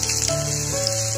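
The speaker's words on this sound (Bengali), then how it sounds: "পেঁয়াজটা হালকা ফ্রাই করে নেব।" Chopped onion fries lightly in hot cooking oil for a flattened-rice pulao, giving a brief steady sizzle heard up close without any talking.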